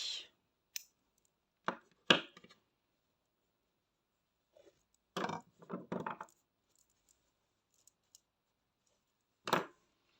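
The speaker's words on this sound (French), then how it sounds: "on va couper le fil et tirer" Crochet yarn is snipped with scissors, giving a few sharp, close clicks and short snipping bursts separated by silence.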